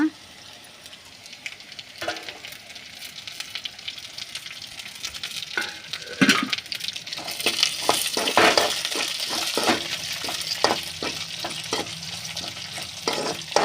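Green chillies go into a pan for rava upma after onions and dal, with a steady sizzle, rising frying noise and repeated scraping stir strokes heard close up, with a voice speaking now and then.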